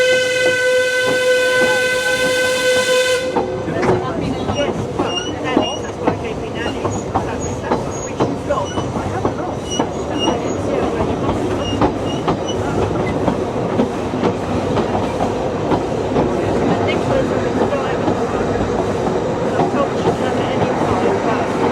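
Train rolling into a station in Wales, with a sustained horn blast at the start, then a loud, steady rumble and rhythmic wheel clatter close by, with a voice talking over it.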